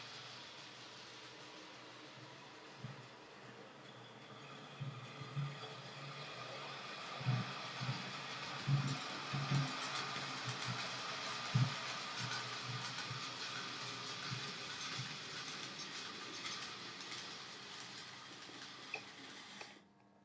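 Soft, steady hum of a Swiss model railway locomotive running around a layout, with faint rail clicks and light rhythmic thumps as wheels cross track joints, quiet and close.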